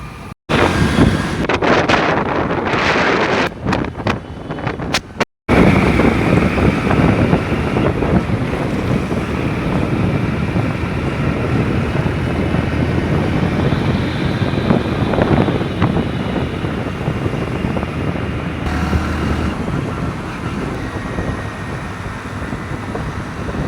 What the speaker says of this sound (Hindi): गाइस तो बाइक चल रही है बहुत तेज़